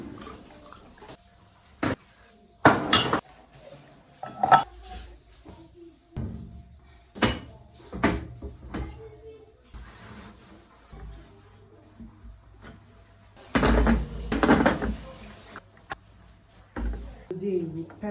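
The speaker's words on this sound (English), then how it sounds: "Alright, so lots of dirty dishes to do." Dishes being washed at a home kitchen sink: scattered clinks and knocks of plates and cutlery, a cupboard thud or two, and bursts of running water, with people talking in between.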